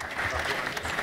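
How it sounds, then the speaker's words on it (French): An audience applauds a high-school team at a national digital-modelling awards ceremony: a short burst of steady, even clapping in a hall, moderately loud and unbroken, with no voice on top. "Je vous demande de les applaudir."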